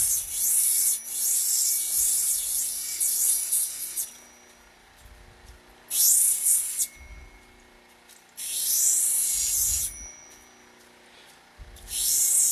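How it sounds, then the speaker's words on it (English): Opal ground on a 300 grit wheel, with bursts of loud, harsh, hissing grinding that start and stop several times, separated by quieter gaps with low thumps. "The 300 grit wheel eats away a lot faster, as I'm sure you can tell"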